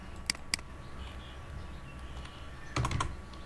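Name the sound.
typing AutoCAD commands on computer keyboard, pressing enter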